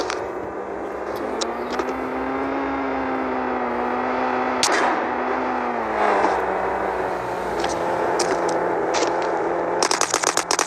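Video-game gunfire bursts as rapid crackling shots over a droning in-game car engine, with a dense volley of close shots at the end.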